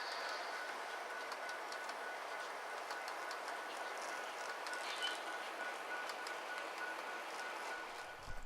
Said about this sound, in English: The distributed power unit engine on this train is another SD70 Mac